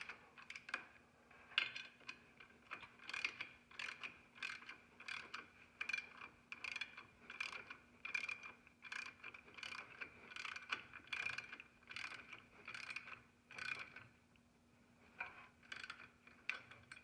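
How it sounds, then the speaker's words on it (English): Steady, rapid ratcheting clicks from a 45 mm socket on a ratchet tightening the harmonic balancer nut of a Toyota FJ40 Land Cruiser, faint and evenly paced for the whole stretch, with no talk. "this is a 45 millimeter socket that I'll use to torque the nut"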